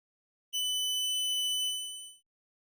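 A single high, piercing electronic beep from an air quality sensor's beeper holds steady for under two seconds, loud and close, then cuts off.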